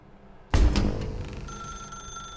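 A telephone suddenly starts ringing loud and close in The Stanley Parable, its bright ring holding steady and sustained after a sharp onset.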